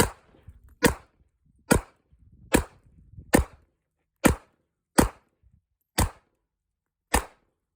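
A Beretta 86 pistol fires .380 rounds in nine sharp, evenly spaced shots, each a loud crack with a quick decay, with faint handling noise between the early shots.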